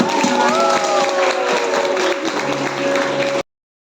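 A crowd at a school Christmas gathering for primary teachers claps and cheers loudly to welcome guests, the applause sustained and dense with tonal voices or music threading through before cutting off abruptly.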